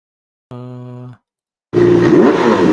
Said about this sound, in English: Let's try to find a motorcycle.